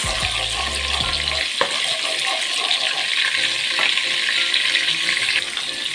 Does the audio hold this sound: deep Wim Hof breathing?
no